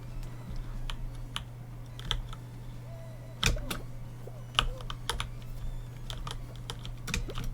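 Rapid clacky keystrokes from a loud mechanical keyboard with blue switches rattle in irregular bursts, sharp individual clicks standing out above a steady low hum, close and without talk.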